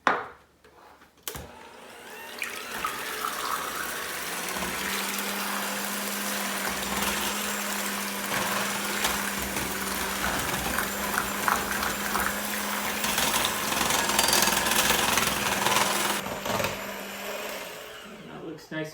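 An electric mixer beats creamy brownie batter with vanilla, whirring continuously for most of the stretch, with a steady motor hum and some clatter in the bowl.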